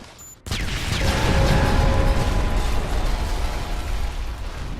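A loud, sustained explosion rumble from the Modern Warfare 2 video game bursts in after a brief quiet moment, heavy low-end roar with debris-like crackle lingering and slowly easing off.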